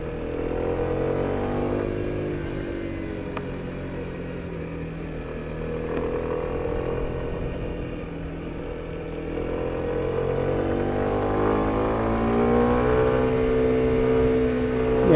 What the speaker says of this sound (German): es klingt schon mal ganz gut, wenn es der Motor sehr laut ist oder der Auspuff.